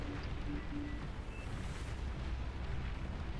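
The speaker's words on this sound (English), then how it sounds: "you got a lot of explosions going on over here" Rumbling explosions in the video game Beyond All Reason boom in a dense, continuous clatter, fairly quiet and mixed into a busy background with no talking.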